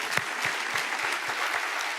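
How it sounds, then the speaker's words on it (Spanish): A church congregation claps during a sermon, a dense wash of applause with a few louder individual claps falling at a steady beat, like some people clapping in rhythm. "Denle un aplauso a Dios bendito."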